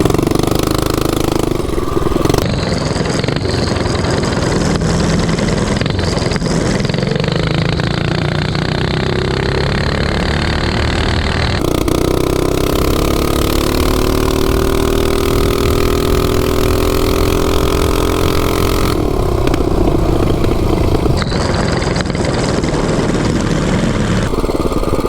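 Mini bikes race each other, a worn bike called Rusty against an RSV, their small engines buzzing and revving loudly and continuously throughout, with pitch swelling as one passes close, then receding and building again.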